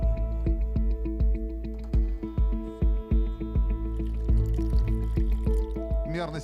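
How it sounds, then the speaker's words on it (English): Water poured from a plastic bottle into a glass, with repeated pouring and splashing pulses over a steady background hum and some murmuring, on a Russian talent show stage in Moscow. "You need to fill the glass with water from plastic bottle."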